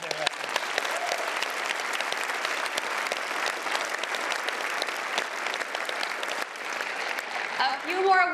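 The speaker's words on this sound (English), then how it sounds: "A big round of applause for all of their efforts." Sustained applause from an audience at an awards ceremony, steady clapping throughout, with a voice starting to speak near the end.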